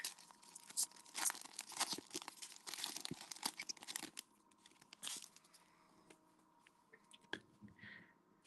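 An NRL Rivalry trading card pack is torn open up close, with a run of loud ripping and crinkling foil wrapper noises, followed by quieter handling.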